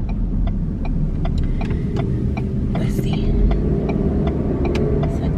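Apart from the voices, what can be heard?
road traffic, cars driving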